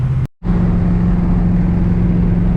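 A car with a Holley double-pumper carburetor and TH400 transmission cruising on light throttle around 2400–2500 RPM, a steady loud engine drone with road noise, briefly cut out at the start, no talking.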